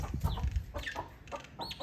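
Chickens cluck repeatedly nearby while pecking at scattered millet feed in a farmyard shed, with several overlapping calls and no voices.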